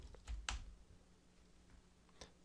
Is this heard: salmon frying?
no